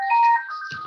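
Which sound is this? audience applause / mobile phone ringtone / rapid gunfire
mobile phone ringtone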